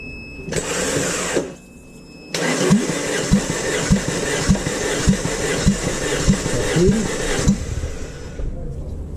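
A Vauxhall engine on a Corsa build turned over by its starter motor, first a short cranking burst, a pause, then a longer run of rhythmic cranking pulses before it stops; people talk nearby.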